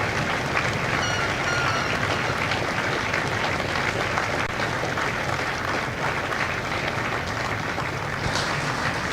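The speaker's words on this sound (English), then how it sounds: "a round of applause for their dedicated service to Corps and country." A large audience at a Marine recruit graduation at MCRD San Diego claps in sustained, dense applause that fills the whole stretch at an even loudness, with crowd murmur mixed in.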